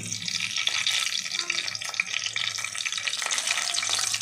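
Bay leaf, garlic and curry leaves fry in hot oil for achari vegetable pulao, giving a steady, close, bright sizzle with small crackles and light stirring throughout, no voices.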